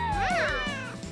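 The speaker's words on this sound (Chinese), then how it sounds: "我捡到一只小猫" A small kitten gives a single clear, rising and falling meow, close and fairly quiet, then a faint trailing sound as it fades.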